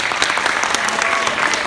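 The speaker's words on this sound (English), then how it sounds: "Round of applause for slowly." Audience applause at a high school hypnotist show, a dense wash of clapping from a crowd that runs steadily through the short moment without speech.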